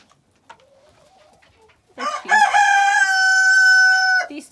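A rooster crows loudly and long in a snowy farmyard, one sustained call following a few quiet clucks from chickens and faint background sounds.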